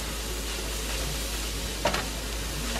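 Spiced food with carrots sizzling steadily in a pan after being stirred, a constant broadband hiss with a brief louder clatter near the end; no talking.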